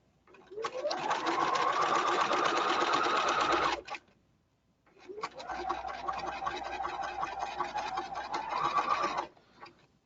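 A sewing machine zigzag-stitches fabric to secure an added piece, running in two long, steady bursts separated by a brief pause, close and loud with no talking.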